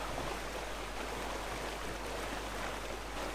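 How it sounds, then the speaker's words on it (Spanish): Loud, steady rushing water fills the scene in a Skyrim-based video game, a dense broadband roar like a stream or falls that holds constant without pause and with no talk over it. "Suena muchísimo el agua"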